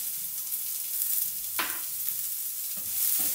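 Capsicum frying in a pan with salt and a pinch of turmeric, a steady soft sizzle with a few brief stirring scrapes, close and moderately loud with no talk.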